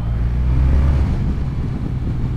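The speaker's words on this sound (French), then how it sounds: "ça fait ronfler les beaux échappements, c'est très agréable" BMW R12 nineT motorcycle exhaust giving a steady, loud low-pitched rumble with a pulsing beat, with no talk over it.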